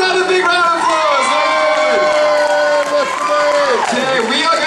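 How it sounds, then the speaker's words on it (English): A crowd at a radio ticket giveaway cheers and whoops loudly, with excited voices rising and falling over continuous noise, sounding close and lively. "Give another big round of applause."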